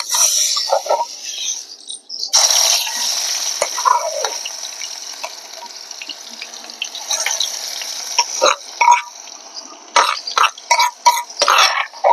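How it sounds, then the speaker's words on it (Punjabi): Masala spices dropped into hot oil for a Punjabi kala chana sabji, giving a steady crackling sizzle with scraping stirs, rising again in short bursts near the end; no talking. "ਤੇਲ ਗਰਮ ਹੋ ਗਿਆ ਫਿਰ ਆਪਾਂ ਹੁਣ ਮਸਾਲਾ ਪਾਵਾਂਗੇ"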